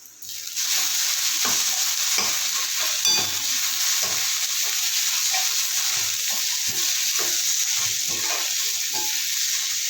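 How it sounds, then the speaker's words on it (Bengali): Chopped onions and curry leaves fry loudly in a pan for a south Indian chutney, a dense steady sizzle broken by repeated soft scrapes and thuds of stirring. "আমার কিন্তু পেঁয়াজটা খুব সুন্দর করে ভাজা হয়ে গেছে"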